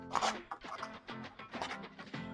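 Scissors cutting a slot into a thick paper journal cover, a series of close, quiet crisp snips and rasping strokes in uneven rhythm, with no talking.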